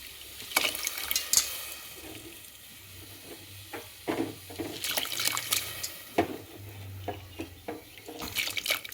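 Water splashes and trickles as lentils for sambar are rinsed by hand in a vessel, with irregular sloshing swishes and drips, fairly close and soft.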